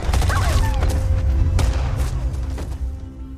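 A single sharp gunshot rings out in a wartime scene with a lone soldier behind Nazi lines, a loud boom with a rumbling tail over a low music bed, followed by a couple of fainter thuds.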